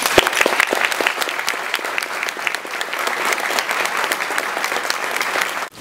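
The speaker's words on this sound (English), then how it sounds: "So I'd like you to join with me in applauding everything that they have done." Audience applause fills a book launch room, a dense steady patter of many hands clapping close by, holding strong throughout and cutting off sharply at the end.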